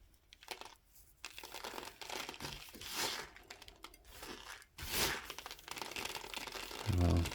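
Close crinkling and tearing as roots and soil are pulled apart while repotting a small tree, a steady run of crunchy rustles with a few louder rips.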